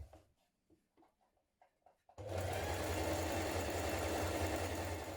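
After a few soft taps and handling sounds, a sewing machine starts up and runs a steady stretch stitch along a leggings waist casing, a close continuous motor whir with rapid needle chatter to the end.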